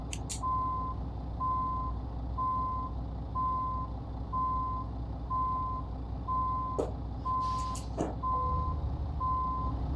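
Reversing beeps from a truck in Euro Truck Simulator 2, a steady evenly spaced series of about ten electronic pips over a constant engine rumble, with a couple of brief clunks near the end.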